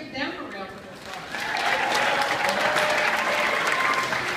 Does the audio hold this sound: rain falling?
no